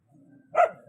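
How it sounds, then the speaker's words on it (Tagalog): A single sharp dog bark rings out close by, rising above a low murmur of background noise. "Napakamaingay ng aso."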